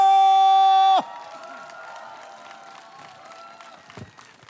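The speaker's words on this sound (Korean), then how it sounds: "여러분들 환희에 찬 박수 쳐주셔야 되겠죠?" A festival crowd applauds and cheers to welcome a singer, entering just as a held musical chord cuts off, then continuing as a moderate, scattered wash of clapping and whoops.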